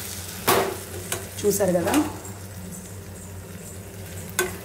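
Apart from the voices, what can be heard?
tomato curry ingredients frying in a pan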